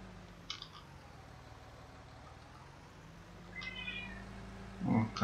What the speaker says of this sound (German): Katze meckert wieder